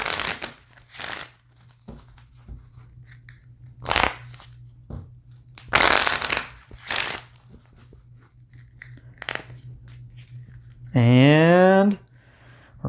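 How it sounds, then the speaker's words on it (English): A deck of cards for a board game is reshuffled: several short papery riffles and rustles come in bursts between quieter handling, with a steady low hum underneath and a brief rising tone near the end. "I have to reshuffle to create a new draw deck"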